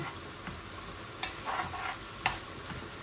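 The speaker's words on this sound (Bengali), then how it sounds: "আর বড় একটা অনিয়ন দিয়েছি এই শাক ভাজার মধ্যে" Spinach fries with garlic and onion in a pan, giving a low, faint steady sizzle with a few sharp clicks of a utensil against the pan.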